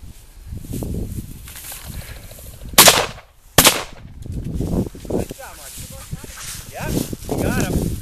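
Two sharp shotgun blasts crack out a second apart during a bird hunt with a dog, loud and close, with talk and rustling movement in the field before and after.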